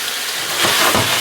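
Andouille sausage drops into a pan of softened onions, and the sizzle swells midway into a louder, rain-like crackling hiss.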